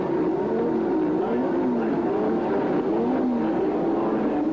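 A field of 26 Formula 1 cars at the start of the 1983 Detroit Grand Prix, their engines a loud, dense, continuous roar wavering up and down in pitch, with commentary faintly underneath.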